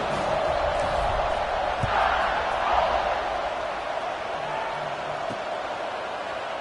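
A stadium crowd in the College Football 26 video game, Tennessee at Alabama, roars as the ball is kicked off. It makes a continuous, broad, far-off cheering wash with slight swells and no clear single voices.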